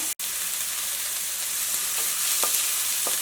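Sliced onion, ginger, green chilli and curry leaves sizzling in hot oil, a dense, steady hiss with a couple of faint utensil taps and no speech.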